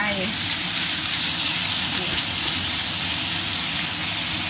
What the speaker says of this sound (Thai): เทียมหอมแล้วเราก็ใส่หมูลงไป